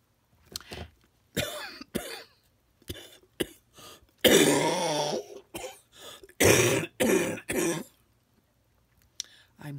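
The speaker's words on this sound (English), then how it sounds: "after I talk, I tend to cough." A woman coughs and clears her throat in several short, separate bursts with pauses between them, close to the listener and moderately loud, with no talking in between.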